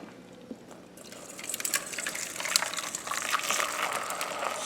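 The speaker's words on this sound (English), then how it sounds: "I've got some hot water, in this case boiling water," Boiling water is poured over a small plastic miniature part for a Castellan Knight model, a steady close gushing splash that swells and stays broad after a brief quieter start, with no talking.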